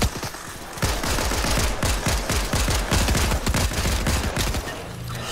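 Rapid automatic gunfire from the Fortnite video game, loud bursts of shots crowding together in a dense, sustained fusillade for several seconds, with a brief quieter lead-in at the start.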